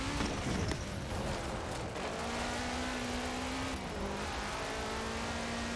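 A Subaru engine drones steadily in a video game as the car drives through a speed zone at high speed. The hum is loud and constant, with a slight pitch dip partway through and no talk.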